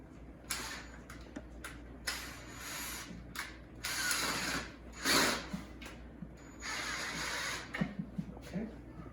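Power drill driving screws into a Linon Triena red cherry wood bench with a black vinyl pad: several short bursts of whirring with clicking, ratchet-like clutch sounds, close and moderately quiet, separated by brief pauses.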